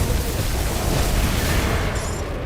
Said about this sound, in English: Ah, blood explosion.